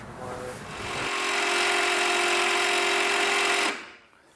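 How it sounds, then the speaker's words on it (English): A drill boring a hole through solid granite during a two-car garage build: a steady, loud, high whine with a sustained tonal hum that ramps up over the first second, holds for about two and a half seconds, then cuts off abruptly. "We're drilling a hole through solid granite, like the hardest concrete in existence"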